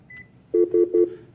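Keypad tones from a desk phone on a new school-district phone system: three short, evenly spaced beeps, loud and close, following a brief quieter tone, with no talking.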